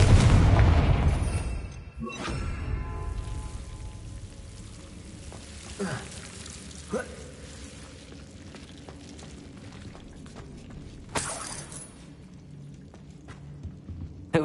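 A Confringo blasting spell explodes in Hogwarts Legacy: one loud, close booming blast opens, then rumbling debris and crackling fade, with several smaller thuds and pops afterward against a quiet background.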